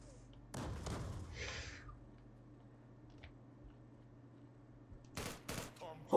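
Gunfire in the online shooter Zula: a couple of sharp shots at the start and a louder burst near the end, separated by a quiet stretch of faint game ambience.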